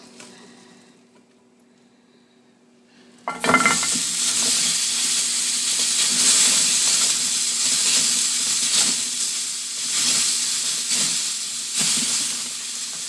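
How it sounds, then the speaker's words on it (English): Onions sautéing in a large copper sauté pan, a loud steady sizzle and hiss that bursts in after about three seconds of quiet and carries on unbroken, with faint stirring scrapes underneath. "I'm gonna saute some onions first, which is not traditional"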